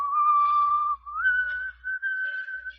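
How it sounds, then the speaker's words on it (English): A lone whistled tune, a clear single melodic line held near and fairly loud, with a few short breaks between phrases and no talk. "I never knew you could whistle."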